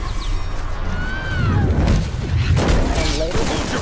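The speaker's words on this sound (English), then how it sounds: "That's a lot of gunfire." Gunfire from the video game Resident Evil 6, loud bursts and crashes mixed with game music and effects while people talk over the action.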